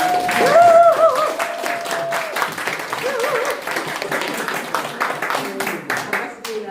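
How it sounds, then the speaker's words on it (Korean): Applause from the audience at a citizens' public debate forum in Hanam, steady clapping under a voice speaking over it, fading slightly toward the end. "이렇게 큰 박수 쳐주셔서"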